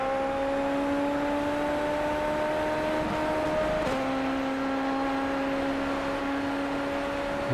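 An SF23 Toyota F1 car at Suzuka in iRacing holds a steady, loud, high-pitched engine whine, with a brief rattling rumble from the kerbs midway as the note steps down.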